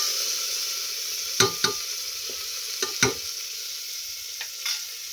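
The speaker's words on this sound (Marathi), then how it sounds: "थोडंसं मिक्स करून घ्यायचं." Steady, close sizzle of baby khichdi with potato in a pan on low gas, broken by a handful of scraping spoon strokes while it is stirred, with no talking.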